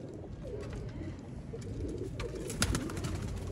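Pigeons coo softly and steadily against a low background rumble, with a few sharper knocks partway through.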